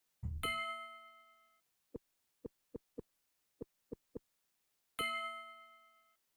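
Two ringing bell dings from the video game Petscop, bright and sustained, one at the start and another near the end, with a run of short soft knocks ticking irregularly between them in an otherwise silent scene.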